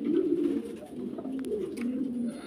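Prince Kamagar pigeons coo close by, repeated low throaty rolling phrases rising and falling in waves, with light rustling and a few sharp clicks in between.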